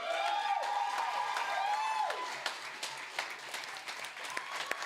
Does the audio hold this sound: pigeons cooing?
no